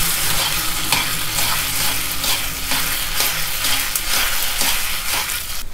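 Continuous sizzling and crackling of noodles stir-frying over high heat in a hot wok, with rhythmic scraping strokes of a spatula stirring throughout, steady and fairly loud.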